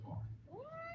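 A cat gives a single short rising meow, close and fairly faint, over a low background hum.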